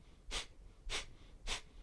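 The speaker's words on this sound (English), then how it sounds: "There's fire breathing, which is focused on the exhalation." Three forceful nasal exhalations of fire breathing, evenly spaced about half a second apart, sharp close breathy bursts with quiet gaps between them.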